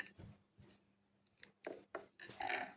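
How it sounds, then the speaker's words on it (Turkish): Scissors snip through tape wrapped around a homemade tablet pen, giving a few quiet, separate cuts that build to a louder, rasping final cut close by. "Hemen burayı bantladıktan sonra kesiyorum."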